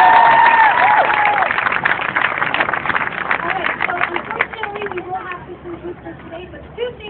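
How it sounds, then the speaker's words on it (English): A crowd applauds at an outdoor protest in Ottawa in solidarity with Gaza. The dense clapping and cheering is loud at first, then thins out gradually. "please one more round of applause for IJB"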